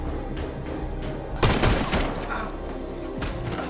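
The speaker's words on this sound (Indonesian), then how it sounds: "para polisi terpaksa menembak dokter Gisu" Gunfire as police shoot a man in a Korean action film, a burst of shots rising over a dense rumbling soundtrack, loud and close, with no talk over it.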